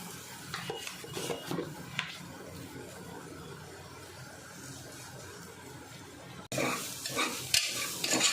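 Spiced mutton mixture stirred in a cooking pot, soft scraping and gentle sizzling at low level, with a few clinks of a utensil against the pot and a louder burst of stirring near the end.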